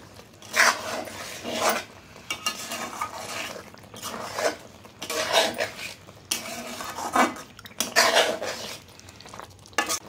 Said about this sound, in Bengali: এখন আমি এটাকে ভালো করে আরও একবার মিশিয়ে নেব।